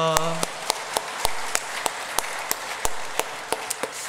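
A church congregation at a Sunday worship service claps with a row of sharp, evenly spaced claps standing out above the steady applause, loud and close.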